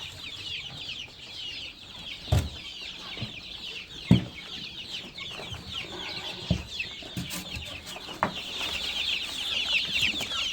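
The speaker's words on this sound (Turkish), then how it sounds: "Gördüğünüz gibi civcivler burada" Young chicks out in the open being given chick feed, a dense high chorus of peeping with a few low knocks and thumps scattered through, close and continuous, no talk.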